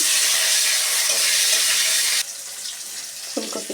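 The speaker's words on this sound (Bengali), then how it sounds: "আমি এবার ফুলকপিগুলো সব ভেজে নেবো ফুলকপি ভেজে নিচ্ছি" A loud, continuous hiss of cauliflower frying in hot oil cuts off abruptly, leaving quieter crackling and a few faint clinks.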